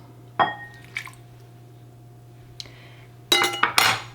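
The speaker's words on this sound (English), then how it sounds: "Mine is very thick honey, so that's going to take a little bit more work to whisk." A utensil clinks against a bowl while very thick honey and lemon juice are whisked for a salad dressing. A few soft isolated taps lead into a brief cluster of brighter, louder clinks near the end.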